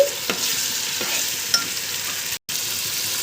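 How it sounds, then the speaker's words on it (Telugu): Ginger-garlic paste with whole spices frying in oil for vegetable biryani, a loud continuous close sizzle with a few stirring scrapes and a brief cut to silence near the end. "అల్లం వెల్లుల్లి చెక్క మొగ్గ పేస్టు పచ్చివాసన పోయే వరకు వేయించండి"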